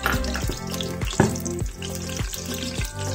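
Cinnamon, cloves and cardamom fry in hot ghee for a vegetable biryani, a close, continuous sizzle with a few sharper crackles and stirring scrapes, and no voices.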